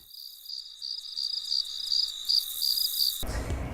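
Crickets or similar insects chirp in a steady, pulsing high trill, clear and fairly close, ending abruptly as a low rumble cuts in.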